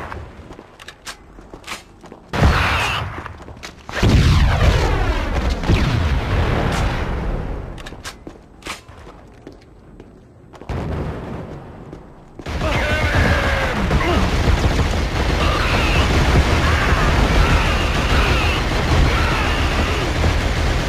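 Grenade blasts and gunfire in the PS2 shooter Killzone, loud booming bursts and crashes with scattered impacts, followed by a sustained dense roar of battle noise.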